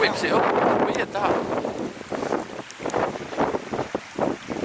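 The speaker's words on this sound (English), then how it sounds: "So it's actually been nice hearing the sound of that water" Choppy, wind-driven water of Haweswater lake splashes and laps against the shore in irregular surges while wind buffets the microphone, with no clear talk over it.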